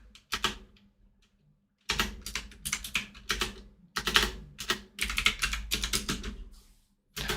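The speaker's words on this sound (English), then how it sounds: "I'm like fat fingering everything on my keyboard today." Fast, uneven typing on a computer keyboard, close and crisp, in dense bursts of keystrokes with a pause of about a second and a half near the start and another brief stop near the end.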